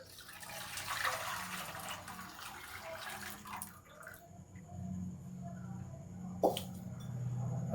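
Strained strawberry syrup is poured back into a cooking pot, a close liquid trickle and splash over the first few seconds that tapers into drips, then a sharp clink and a low hum.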